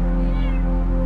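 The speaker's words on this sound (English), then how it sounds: "She's the happiest cat. She has one sound. It's only one sound. Meow." A single drawn-out meow from a house cat, close and clear, heard alone without talk.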